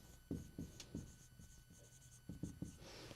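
A word is written by hand on a surface during a lesson, a series of short, quiet scratching strokes in two clusters separated by a brief pause.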